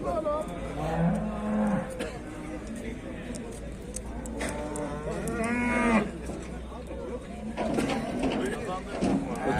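Cattle moo repeatedly amid a busy livestock market in Afyon, Turkey, with people talking and chatter continuing underneath throughout.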